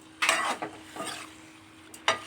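Chilli chicken with pepper powder being stirred in a frying pan: a few scraping stir strokes over a soft sizzle, close and moderately loud, with short pauses between the strokes.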